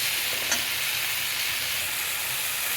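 Green chillies fry in a pan with a steady, loud, hissing sizzle that holds evenly throughout, with one brief sharp crackle near the start.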